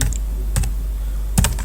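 A few keys tapped on a computer keyboard while a Linux shell command is entered, sparse clicks close by with a quick cluster near the end, over a low steady hum.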